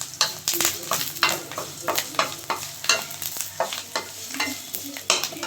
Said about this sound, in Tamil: நல்லா வறுத்துச்சு கருவேப்பிலை பாருங்கள்